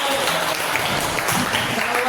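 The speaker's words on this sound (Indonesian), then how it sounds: "Tepuk tangan." Short burst of audience clapping at a teachers' program presentation, a busy, dense patter lasting about two seconds with some crowd noise mixed in.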